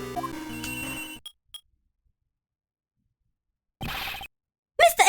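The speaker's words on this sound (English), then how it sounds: "Her cell phone." Cell phones ringing in the Ace Attorney Investigations 2 video game: a melodic ringtone plays, cuts off into silence, then a second electronic ring sounds, followed by a short bright tone.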